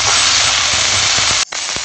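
Garlic and ginger sizzle loudly in hot oil in a wok, a dense close hiss with faint clicks of stirring, briefly cutting out before resuming.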